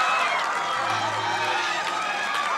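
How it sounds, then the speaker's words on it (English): A 1985 Mid South Wrestling arena crowd roars its approval for Brickhouse Brown, a dense, loud wash of cheering and shouting with no break, voices layered together. "Listen to this crowd as the big hacksaw comes down, and these people voice their approval of Brickhouse Brown."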